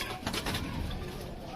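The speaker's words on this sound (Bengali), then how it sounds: "পুরো বন্ধ লেজের পায়রা দেখুন" A high-flyer fancy pigeon coos in a short, close burst of soft throaty notes over a breathy background.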